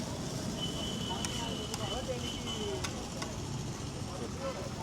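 Atho fry cooking on a hot pan at a Chennai night street food stall, with a low steady sizzle and a few sharp metallic clinks. Voices and background noise from the street sit under it.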